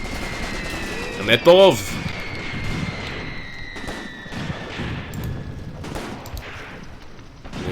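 Gunfire and incoming rounds crack and thump across a WWII Soviet battlefield in Graviteam Tactics: Mius-Front, with a sharp loud burst near the start, then scattered distant shots under a steady rumble, while a voice speaks briefly.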